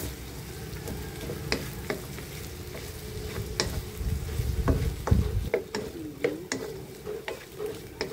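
Corn and fresh carrots sauté in dairy-free butter in a pan, giving a steady close sizzle. A few sharp clicks and stirring scrapes cut through, with a louder burst of frying midway.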